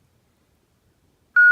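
A single steady electronic beep tone from a custom lightsaber sounds near the end, loud and close, after a stretch of silence.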